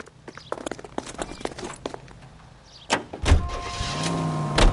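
A car in L.A. Noire starts up with a low engine rumble that settles into a steady running drone, following footsteps, a door and horse hoof clops heard nearby.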